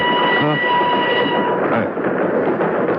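Train running on rails in a radio drama, a steady rolling rumble with a faint horn-like tone at the start, continuous and fairly loud throughout.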